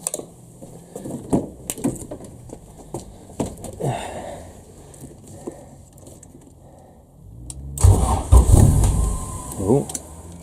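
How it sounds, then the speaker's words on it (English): A Honda Civic EF engine cranks and then catches, a short burst of starter churn followed by a louder rumble near the end, with some clicks and handling noises before it. "Switch those two plugs around and we'll give it a crank."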